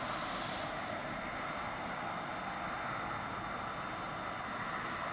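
A conventional fixed-wing airplane flies away at night, its engine a steady, distant broadband drone with no speech, holding a fairly even level throughout.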